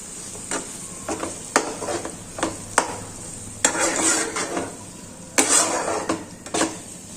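A spoon stirs boiled green pigeon peas (lili tuver) into a sizzling vegetable curry in a pan, with repeated scraping strokes and clinks against the metal over a steady frying hiss, close and moderately loud, with no talking.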